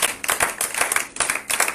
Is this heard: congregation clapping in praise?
yes